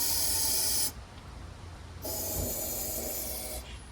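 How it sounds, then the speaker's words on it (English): Starting fluid (ether) sprayed from an aerosol can into the engine of a Chinese 150cc motor scooter, two close, loud hissing bursts, the first about a second long and the second longer, separated by a short pause. "spray some starting fluid, ether."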